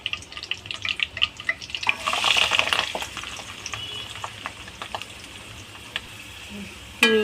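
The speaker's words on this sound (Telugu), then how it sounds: "ఈ ఉల్లిపాయలని కొంచెం బాగా ఫ్రై చేసుకుందామండి." Sliced onions and curry leaves fry in hot oil for an egg curry, with a crackling sizzle swelling briefly and then settling into soft, scattered pops and ticks.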